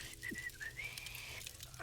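A video game character tries to whistle, producing a thin, wavering whistle that slides up in pitch over about a second. It is faint, with low game ambience beneath it.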